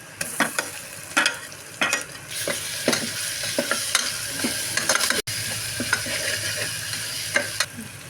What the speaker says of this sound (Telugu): ఇప్పుడు ఈ అల్లం వెల్లుల్లి పేస్ట్ కొంచెం వేగ వేగనివ్వాలి ఈ నూనెలో